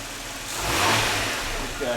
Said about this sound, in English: We should hear the engine stall.